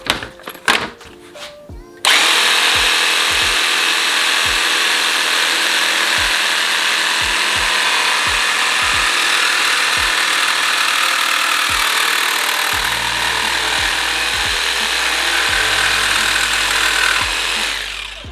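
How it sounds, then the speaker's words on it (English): A jigsaw cutting a circle in wood runs loud and steady and close by for most of the clip, its buzzing rasp continuous, with a few short clicks and handling noises at the start before the motor starts. "Try jigsaw."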